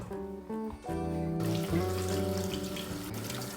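Apples rinsed under a kitchen tap, with a steady splashing stream and shifting tones as the fruit moves through the water, close and continuous, no talking.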